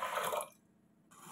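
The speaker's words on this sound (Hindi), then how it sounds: "कुकर में हम पानी डाल लेंगे" Water poured into a pressure cooker for cooking dal, heard close up: a short gush of splashing, a brief pause, then the pour starting again.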